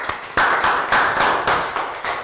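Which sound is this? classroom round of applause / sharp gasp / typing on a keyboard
classroom round of applause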